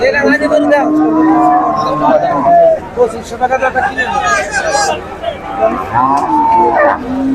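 Cattle lowing at a rural cattle market where large cows, many of them thin, are on sale; several loud moos rise one after another over a steady hubbub of crowd chatter nearby.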